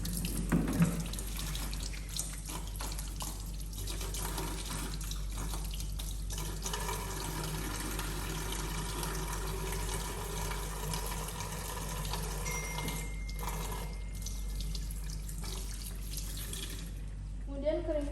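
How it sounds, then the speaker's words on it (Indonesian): Running tap water streams steadily over hands being washed, a continuous close splash and hiss with faint shifts as the hands move under the flow. "mencuci tangan dengan 7 langkah dengan air mengalir"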